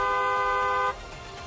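Car horn blares in a steady sustained honk for most of a second, loud and close, then cuts off abruptly, leaving faint background noise.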